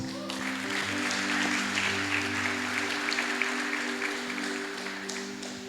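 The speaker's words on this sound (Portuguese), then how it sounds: "Vamos dar uma salva de palmas?" Applause from a church congregation during a conference service, steady crowd clapping at moderate level, with sustained musical keyboard tones held underneath throughout.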